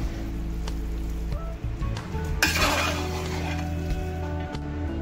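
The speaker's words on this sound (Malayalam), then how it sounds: "അപ്പോൾ ചെറുതീലിട്ടിട്ട് ഇങ്ങനെ ഇളക്കി ഇളക്കി ഫ്രൈ ആക്കി എടുക്കണം." Masala beef frying over a low flame while being stirred in a pan, with metal utensil scrapes and clinks against the pan over a soft sizzle, close and steady and without talk.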